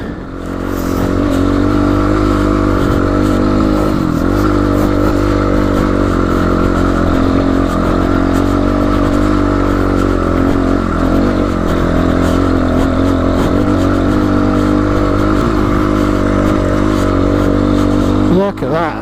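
A GPX FSE300R motorcycle cruises along on a road ride with a steady, loud engine drone and wind noise at near-constant speed, easing off briefly near the end.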